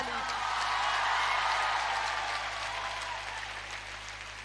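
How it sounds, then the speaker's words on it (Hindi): Audience at a youth meet applauds a speaker, a loud, dense crowd clapping that swells in the first second and holds steady before easing off slightly, with no distinct individual claps. "आपके लिए एक जोरदार ताली।"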